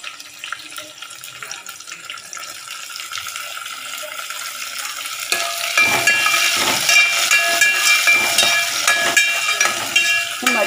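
Green peas dropped into hot oil with reddish fried onion in a pan, giving a broadband hiss that grows louder and denser partway through, with crackling spatter over a steady sizzle and no talking.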